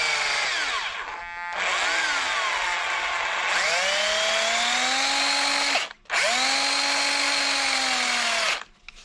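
A cordless Makita drill, freshly rewired, whirs up several times, its motor pitch rising and holding steady in near, loud bursts with brief pauses between.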